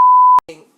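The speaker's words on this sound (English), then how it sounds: "We can beep it." A single steady censor bleep tone runs for about four tenths of a second, loud and clean, followed by a short burst of talk from a podcast conversation.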